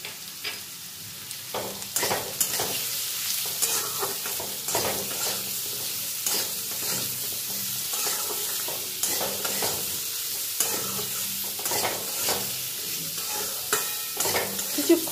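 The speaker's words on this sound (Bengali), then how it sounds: "আলুটা দিয়ে পেঁয়াজ রসুনের সঙ্গে আমি নাড়াচাড়া করে নেব।" Potato pieces stirred and frying in a pan with onion, garlic, salt and turmeric, for an okra, potato and prawn curry; a steady sizzle runs throughout, broken by repeated scraping and clattering strokes of the spoon.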